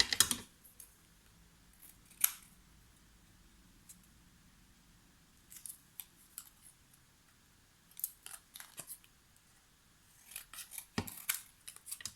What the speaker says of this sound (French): Peut-être un petit bout de celui-là, on coupe tout droit.